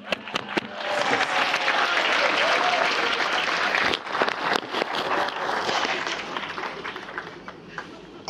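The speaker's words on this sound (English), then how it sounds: "Round of applause for Mom and Dad." Wedding guests burst into applause that starts with a few separate claps, swells into a full round, then thins out toward the end, with scattered cheers and murmurs in the mix.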